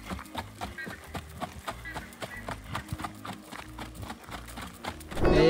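Hooves of a horse clip-clopping in a steady, even rhythm at close range, with a louder rustling burst at the very end.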